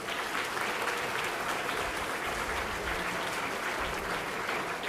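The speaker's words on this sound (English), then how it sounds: "and a big round of applause to all the participants and winners." Audience at a National Science Day valedictory prize function gives a loud, continuous round of applause for participants and winners, dense close clapping throughout.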